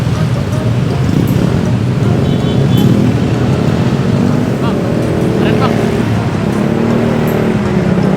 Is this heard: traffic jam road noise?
yes